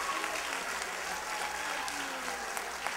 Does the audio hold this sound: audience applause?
yes